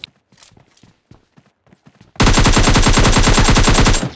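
Rapid automatic gunfire from the video game Noob Beats RPG bursts in loud and close after a few faint scattered clicks, a fast steady rattle lasting about two seconds before it cuts off.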